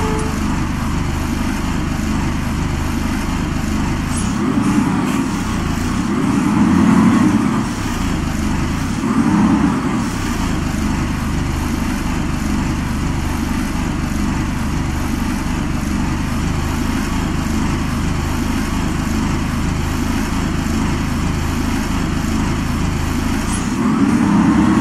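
A Karosa S11 bus engine in the OMSI 2 driving simulator drones steadily with a low, continuous rumble, swelling briefly a few times as the revs rise and fall, with no talking over it.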